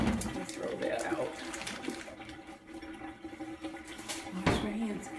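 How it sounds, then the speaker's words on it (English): Hands being washed under a running tap at a kitchen sink, a soft continuous rush of water with small splashes, fairly quiet, with faint voices in the background. "Wash my hands"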